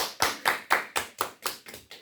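A small group of students claps in a classroom, producing a slowing series of about eight sharp, evenly spaced claps, close and fairly quiet, with no talking.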